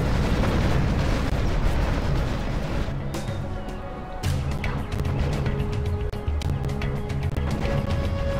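Spectre gunship cannons pound targets in the video game C&C Generals Zero Hour, a run of deep booming explosions and bursts, loud and dense, with a short lull midway before the blasts resume.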